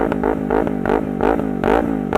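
Lexmoto LXR380 motorcycle with a loud aftermarket-style exhaust, revved in quick repeated bursts, each rising blip snapping up then dropping back to a throbbing idle, close and strong, no voices.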